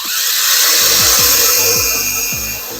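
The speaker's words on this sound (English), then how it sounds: "I'm drilling a damn hole" A power drill bores a hole through an electric bike frame, a steady loud whine with repeated rhythmic bites as the bit catches the metal, close up and without talk.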